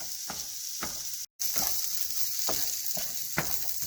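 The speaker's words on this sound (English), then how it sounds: "Now, we're going to saute this for about 3 to 5 minutes." Onion and garlic sizzling in a pan, a steady bright frying hiss broken by periodic scraping stirs and one brief dropout, close and alone without voices.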